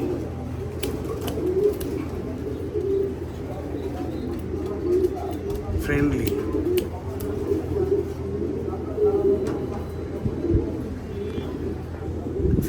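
Pigeons coo steadily in a loft housing birds recovering from a viral illness, a low continuous murmur throughout, with someone talking over it.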